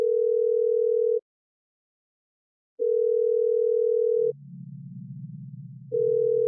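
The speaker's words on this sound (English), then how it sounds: "This is the phone call I was talking about." Telephone ringback tone on a call to 911 in a horror video game: loud steady tones of about a second and a half, spaced by silence, with a low murmur rising under the last gap.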